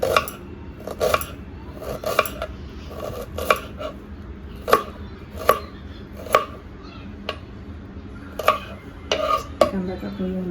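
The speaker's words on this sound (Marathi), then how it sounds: "आता कांदा कापून घेऊया." Onion being chopped with a knife on a board at home while making dill leaf bhaji, a series of sharp irregular knife taps, close and moderately loud, over faint kitchen background.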